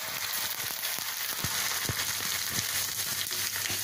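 Poha dropped a little at a time into oil heated on medium and then lowered, for crispy corn flakes chivda, giving a steady close sizzle and crackle with a few sharper pops, no talking.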